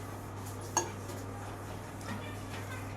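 Small pieces of green chilli roasting in a pan until yellowed: a faint low sizzle with one clear metallic clink of a utensil against the pan, then a few softer scraping stirs.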